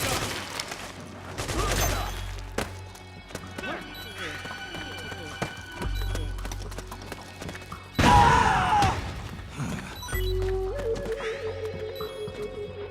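Bursts of gunfire ring out during a battle in the Metal Gear Solid 4 video game, with sharp cracks, thuds and a crashing impact mixed among shouting voices, fairly loud and busy.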